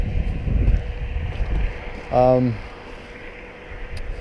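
Steady wind roar buffeting a rider on a 2005 Honda Hornet 600 motorcycle out on the road, a constant broad rushing noise with a brief humming tone rising partway through.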